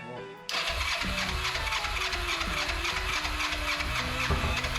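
Kawasaki Vulcan 500 motorcycle engine firing up for the first time after a carburetor rebuild, a sudden catch followed by a steady, loud, rumbling idle that runs on continuously, close by.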